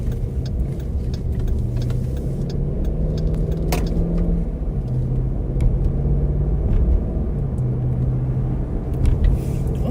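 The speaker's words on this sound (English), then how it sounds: "Those are screaming fast cars." Fast cars fleeing a police squad rumble past on a road near a lake, a steady engine drone and tire hum with a few sharper passing swells, no talk over it.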